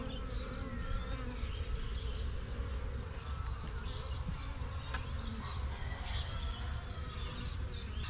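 Honeybees buzz in a dense, continuous drone during a beehive inspection, with a steady swarm sound filling the whole stretch and no talking.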